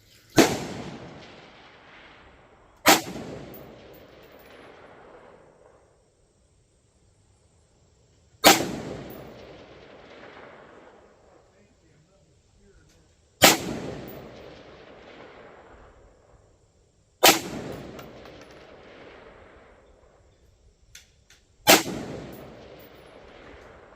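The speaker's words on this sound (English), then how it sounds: "Well, let's take a few more shots at it." Rifle shots fired one at a time at a 400-yard target during an outdoor range session, six sharp loud cracks spaced a few seconds apart, each followed by a rolling echo that trails off.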